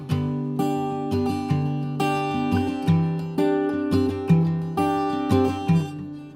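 Instrumental run-through of a song, with steady strummed chords ringing out in even, repeated accents, close and fairly loud with no voices.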